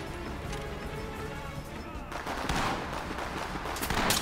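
A flashbang grenade detonates in the tactical shooter Ready Or Not, a sudden sharp broadband burst that rings out over steady in-game background noise, followed by a rougher blast near the end.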